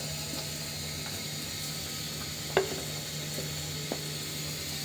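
Fish roe going into a hot frying pan, cooked with eggplant, makes a steady, even sizzling hiss throughout, with one brief clunk of a utensil partway through.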